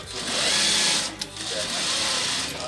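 A sewing machine running in a tailor's shop in Abbottabad, a loud continuous whir with a brief pause midway before resuming steadily.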